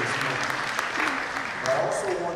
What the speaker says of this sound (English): I want you to go ahead and give all the young people a round of applause today who are here